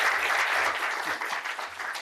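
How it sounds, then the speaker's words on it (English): A short burst of audience applause at a transportation conference session, dense steady clapping from a room of people that thins slightly toward the end. "let's give Kirk a hand of applause here"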